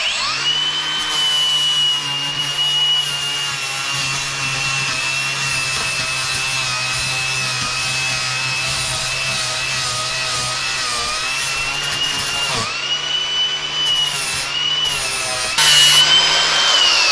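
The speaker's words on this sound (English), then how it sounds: "This grinder is probably gonna work." A power grinder runs steadily and loudly at close range with a constant whine for most of the stretch, briefly dropping and restarting near the end, with no talk over it.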